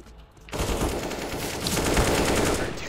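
Sustained, rapid gunfire during a ranked online shooter match, a dense, loud burst that starts abruptly after a short quiet moment and keeps going with steady intensity.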